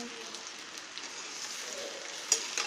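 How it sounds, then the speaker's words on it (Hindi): Leftover roti khandvi gently fried with curry leaves and turmeric makes a soft, even sizzle throughout, with a faint spoon tap near the end. "खांडवी बनाई थी ये इसमें डाल देंगे और हल्के हाथ से इसे भूनेंगे"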